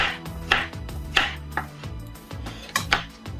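A banana is chopped finely with a knife on a board, a series of sharp, close taps in an uneven rhythm, about six distinct cuts with quiet gaps between them.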